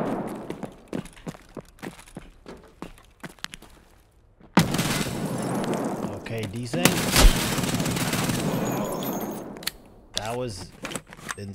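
Gunfire rings out in Escape From Tarkov. A string of sharp, rapid shots opens the clip, followed by a long, loud burst of noisy action and a few more cracks near the end.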